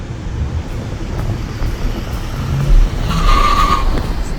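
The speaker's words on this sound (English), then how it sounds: "Tire spin a little bit." A 2019 GMC pickup launches from a stop while towing, its tires spinning briefly with a short squeal over the rising engine and road noise, close and fairly loud.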